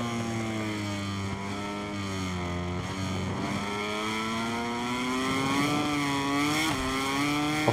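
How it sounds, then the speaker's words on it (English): A Honda MotoGP racing motorcycle engine roars continuously in MotoGP 23 at Le Mans, France, its pitch rising and dropping through gear shifts, loud and close with a strong harmonic whine. "it feels good to be back, hearing the Honda engine roar"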